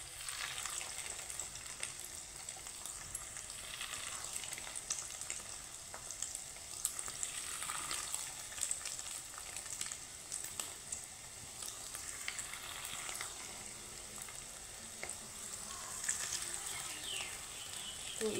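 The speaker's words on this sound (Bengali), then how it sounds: "আমি একই সাইজ করে বড়াগুলো প্রথমে ভেজে নেব" Fish roe fritters sizzle steadily in hot oil in a pan. The frying hiss is constant and close, with faint crackles and occasional stirring noises, and no talking.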